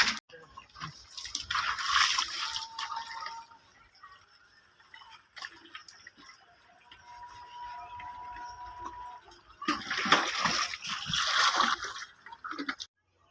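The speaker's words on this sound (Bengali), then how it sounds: "প্রথমে পরিষ্কার পানি দিয়ে ভালোভাবে ধুইতে হবে" A plastic chick waterer is rinsed with clean water, giving two splashing, trickling bursts at the start and end with quieter dripping and handling between.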